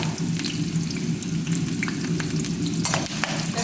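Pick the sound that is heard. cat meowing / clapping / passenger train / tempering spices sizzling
tempering spices sizzling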